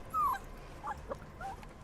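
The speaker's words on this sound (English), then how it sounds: "No, it's a dog. I was not expecting a dog. A puppy, to be exact." A puppy whimpers in a metal music video, with one clear, high, falling whine near the start, then a few faint, short whimpers and yips, close by with no talking.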